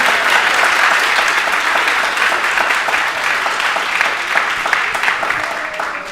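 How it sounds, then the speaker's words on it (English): Steady, loud applause from a high school spring concert audience, a dense wash of many hands clapping continuously throughout with faint crowd murmur beneath. "Round of applause."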